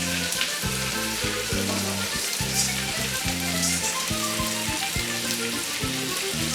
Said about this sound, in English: we're gonna drop all these onions in here